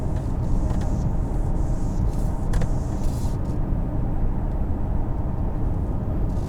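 A 2020 Buick Envision Premium with a 2-liter turbo engine driving, heard from inside as a steady low road and engine rumble with wind noise, constant and unbroken.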